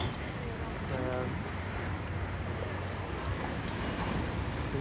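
Ocean waves wash in as a steady, broad roar of surf with some wind rumble, fairly close and unbroken, while someone talks over it.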